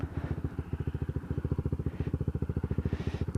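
Honda ADV160 scooter fitted with a JVT PowerPipe adjustable exhaust idles on its center stand, a steady rapid low-pitched thumping pulse running loud and close throughout.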